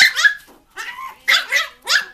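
A small puppy, agitated and confined, lets out four short, sharp, high-pitched barks and yips in quick succession, close and loud with brief silent gaps between them.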